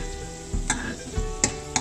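Food frying in ghee sizzles and bubbles in a pan, with intermittent stirring scrapes and a few sharp utensil clicks close by.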